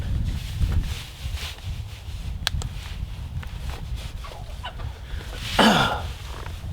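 Chickens cluck and murmur close by amid rustling, with a louder squawk near the end, at a cabin in Alaska.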